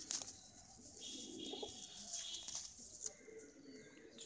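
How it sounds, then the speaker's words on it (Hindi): A large Madrasi racing pigeon coos softly in a quiet, distant-sounding setting, with a few low cooing phrases and faint chirps over light background noise. "ये कबूतर तो बहुत ही बड़ा कबूतर है"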